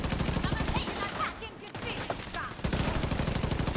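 Rapid automatic gunfire in a video game, loud bursts of shots in fast succession at the start and end, with a brief lull in the middle and a voice talking under it.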